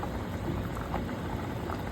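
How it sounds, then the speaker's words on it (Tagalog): Bulalo, a beef bone marrow soup, boils in a pot with a steady, dense bubbling that stays fairly loud and continuous throughout. "So ngayon, papakuluan lang natin yan."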